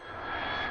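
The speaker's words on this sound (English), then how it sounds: "Fighter." A fighter jet roars steadily and loudly for under a second, a broad, continuous engine rush with no pauses or other sounds.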